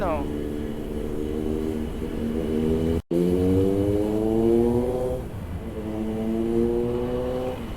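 Motorcycle engine droning steadily nearby with rising revs through gears and a brief cut, heard from a rider's perspective on a road with wind noise, while a person talks over it.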